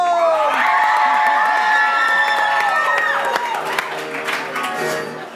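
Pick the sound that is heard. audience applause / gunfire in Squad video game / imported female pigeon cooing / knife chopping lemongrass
audience applause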